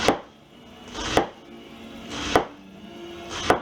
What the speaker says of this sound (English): start right here by slicing it straight across